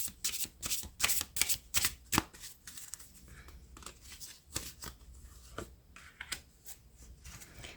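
Tarot cards being shuffled by hand at close range, a run of crisp riffling and slapping bursts with short pauses between, quite loud and heard alone.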